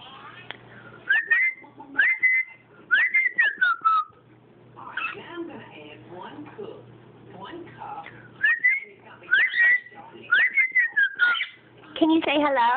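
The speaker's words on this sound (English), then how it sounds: "Freddy, can you whistle for us?" Repeated bright whistled phrases from a talking pet bird, rising and falling notes in short bursts, with soft talking in between.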